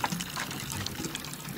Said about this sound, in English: Now I can water it.